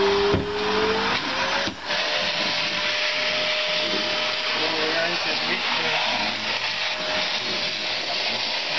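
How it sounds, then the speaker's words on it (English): A vacuum cleaner sucking up dirt roars loudly and steadily throughout, with a brief dip as it catches something, a persistent close whine over the suction. "I'll get the vacuum going and we'll vacuum out this dirt."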